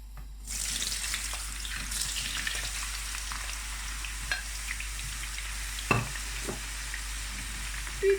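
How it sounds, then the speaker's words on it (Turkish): A sudden, steady hiss of frying in hot oil starts after a brief silence and keeps sizzling evenly, with a few faint clinks. "yağım da ısındı. Patatesleri atıyorum içerisine."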